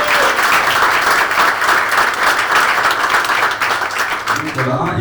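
An audience at a coffee event breaks into steady, dense applause, many hands clapping together close and loud for several seconds before it begins to thin at the end.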